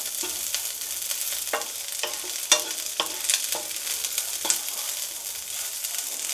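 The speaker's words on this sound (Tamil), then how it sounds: "இந்த பச்சை கலரே இல்லாமல் நல்ல ப்ரௌன் கலர் வர்ற வரைக்கும் வறுத்துக்கோங்க." Powder ingredients dry-roast in a pan until brown, a faint steady sizzle broken by repeated sharp scrapes and taps of a spoon stirring, close and quiet with no talk.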